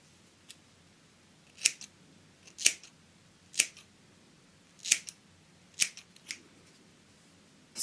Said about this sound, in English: I've got these scissors. So there's just like a normal pair and then these like thinning scissors.